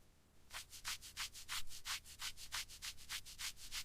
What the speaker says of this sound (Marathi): टोमॅटो, मिरच्या आणि लसूण छान भाजून झाले आहेत। आता हे सगळं आपण सिलबट्ट्यावर ठेवून बारीक वाटून घेऊया।